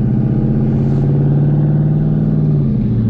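A boosted Ford Mustang GT pulls away with a loud, steady, droning engine note, pitch dipping slightly near the end, heard close from inside without talk.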